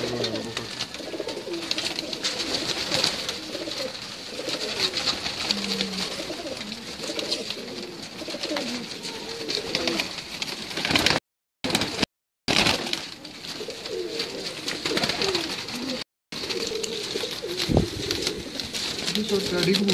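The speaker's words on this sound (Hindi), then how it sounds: "टैडी कबूतर है" Teddy pigeons on a rooftop coo in repeated low, throaty phrases close by, with people talking throughout and a few brief dropouts.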